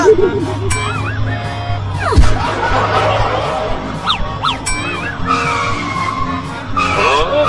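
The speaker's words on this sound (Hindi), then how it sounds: "अरे कलुआ, तू तो टेम्पो को बहुत तेज चला रहा है" A tempo vehicle in a comic cartoon skit is driven fast and swerves, with loud tire squeals and skidding whines rising and falling, mixed with chuckling, laughing voices.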